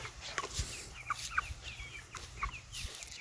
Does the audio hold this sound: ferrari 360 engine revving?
no